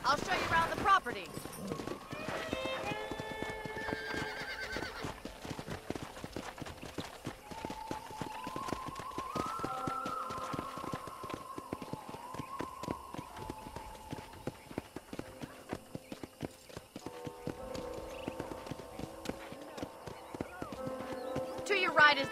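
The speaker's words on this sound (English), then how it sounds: "let's see if you can still ride a horse" A horse is ridden in the Red Dead Redemption video game, its hooves clip-clopping in a steady running rhythm with an occasional whinny, heard under characters' dialogue.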